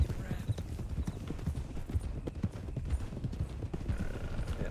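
In a Red Dead RP video game, a horse canters with quick, rhythmic, muffled hoofbeats that keep a steady pace, under quiet talk.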